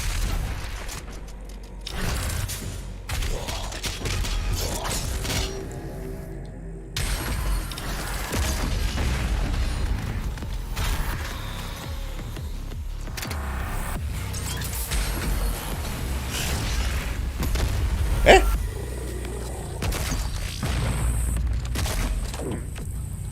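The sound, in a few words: grenade explosions in the video game Doom Eternal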